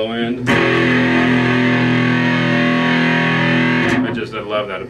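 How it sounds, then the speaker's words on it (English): Bass guitar played through a Wren and Cuff Pickle Pie B distortion pedal, a single thick, heavily distorted sustained note with deep low end ringing for about three seconds, framed by brief string noise at the start and end. "you still get that thundering low end, and you still have that thick distortion there"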